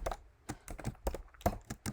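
Someone types code on a computer keyboard, giving a steady run of close, crisp key taps in irregular bursts with no talking.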